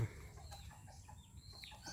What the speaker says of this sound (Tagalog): Mga manok ko guys